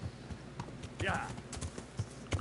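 Horse hooves clip-clopping in the medieval video game Kingdom Come Deliverance, a quick run of close, steady hoof strikes over a few seconds with a brief snort-like swell midway.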